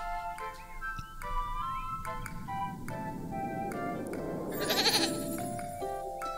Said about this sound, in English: Is that a sheep or a goat?